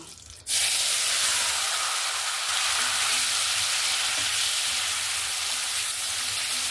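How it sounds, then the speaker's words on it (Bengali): Boiled young jackfruit drops into hot oil in a kadai, with a sudden loud sizzle that then holds as a steady, close frying hiss. "দিয়ে এবার যে সেদ্ধ করা এঁচোড়টা যে আমি সেদ্ধ করে রেখেছি সেটাকেও ভেজে নেব"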